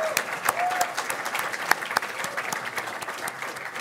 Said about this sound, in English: So everyone give a clap for our sponsors